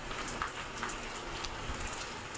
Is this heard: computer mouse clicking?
no